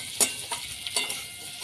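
Pieces of shol (snakehead) fish browned in a pan being stirred with salt and turmeric, a few soft scraping strokes over a faint sizzle, close and quiet.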